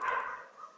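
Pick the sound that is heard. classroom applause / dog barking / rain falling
dog barking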